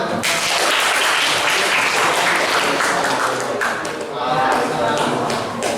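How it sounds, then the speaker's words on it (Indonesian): Classroom applause from a group of students, a dense steady patter of hands filling the room with some voices mixed in. "Kalau tidak ada, beri tepuk tangan."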